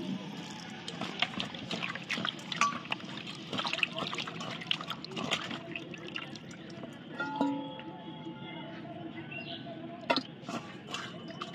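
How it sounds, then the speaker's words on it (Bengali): Taki (snakehead) fish being rinsed in clean water, with trickling, splashing water and soft clinks of handling close by, a faint voice now and then in the background. "এবার আমি লেটা মাছটা আবারও পরিষ্কার জল দিয়ে ধুয়ে তুলে নিচ্ছি"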